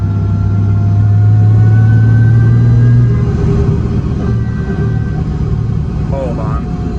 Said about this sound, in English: It sounds like a freaking race car now.